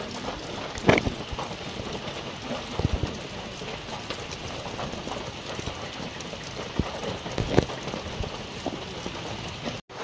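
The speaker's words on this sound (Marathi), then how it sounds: "आता आहे ना मित्रांनो ह्या साईडला भरपूर पाऊस आहे सकाळपासून" Steady rainfall patters down continuously, with a few sharper drops or knocks standing out now and then; no voices.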